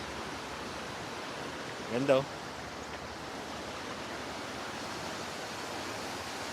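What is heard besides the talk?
river current flowing under Malagonlong Bridge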